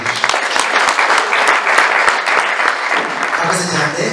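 A church congregation claps together loudly and evenly, a fast crowded wash of hands filling the room, with no voices standing out above it.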